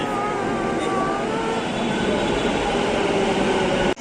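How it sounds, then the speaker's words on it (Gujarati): A metro train pulling into a station, a loud, steady rumble with a sustained whine and faint tonal hum close by on the platform, no talk heard. "તો ફાઇનલી આપણી મેટ્રો આવતી દેખાઈ રહી છે."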